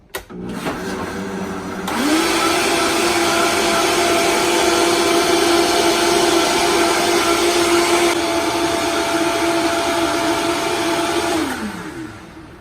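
A blender whizzes a vitamin C drink, spinning up after a brief rustle and running loud and steady for about ten seconds before winding down.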